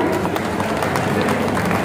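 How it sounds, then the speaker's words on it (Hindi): An audience at a kavi sammelan poetry gathering in the Patel Mandap at Nauchandi Mela in Meerut claps to welcome a poet, a steady, dense crowd applause throughout the brief moment. "उनकी जोरदार तालियां"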